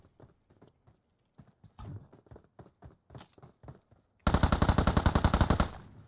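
In the PUBG Mobile video game, a run of scattered single shots and footstep-like taps gives way to a loud, rapid burst of automatic gunfire, close and sustained.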